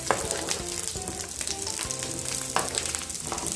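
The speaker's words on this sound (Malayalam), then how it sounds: "എണ്ണ ചൂടായുണ്ട്, അതിലേക്ക് വെളുത്തുള്ളി ചേർത്ത് കൊടുക്കാം." Garlic sizzling in hot sesame oil in a pan, a steady close crackling fry with a few sharper pops, continuous and fairly loud with no talk.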